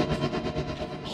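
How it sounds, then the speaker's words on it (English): Blair Gate, a haunting gated-noise preset from Equilibrium 2 for the Omnisphere synth, pulsing in quick rhythmic chops of dark, thick noise, loud and alone. "Haunting gated noise."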